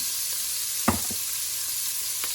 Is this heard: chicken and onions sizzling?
yes